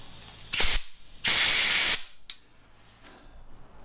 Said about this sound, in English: A shot of compressed air just for good measure.